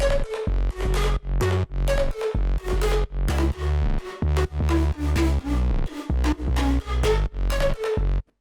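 A pumping electronic dance drop with heavy bass and punchy rhythmic synth stabs, repeating steadily and loudly before cutting off abruptly.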